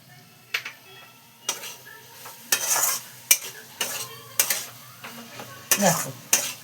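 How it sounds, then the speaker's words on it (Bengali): Pav bhaji mixture being stirred in a pan, with repeated scraping and clattering strokes of the spoon against the metal over a soft sizzle, close and fairly loud, without speech. "এই যে আসল জিনিসটা দিয়ে এবার আমি এটাকে নাড়িয়ে নেব।"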